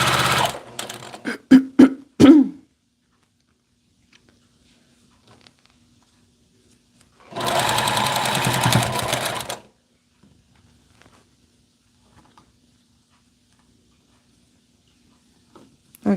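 Sewing machine stitching thick folded fabric, with a few quick clattering bursts at the start, then a steady two-second run of rapid stitching in an otherwise quiet room.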